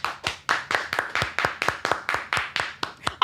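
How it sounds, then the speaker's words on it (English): An audience claps in steady unison, about a dozen sharp, evenly spaced claps in a row, fairly close and unaccompanied by talk. "Clap your hands if you think that's crazy"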